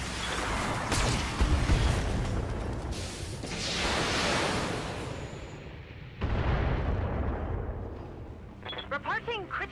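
Indirect artillery fire in the BattleTech video game, with booming launches and whooshing impacts in a dense, loud barrage that drops briefly before resuming, ending with clattering mechanical sounds.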